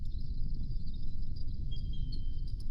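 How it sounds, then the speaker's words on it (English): AI-generated cricket chirping effect, a dense shrill high chirr pulsing steadily over a low rumbling bed, continuous and fairly loud for the whole stretch, with no voices. "So there's some crickets noises."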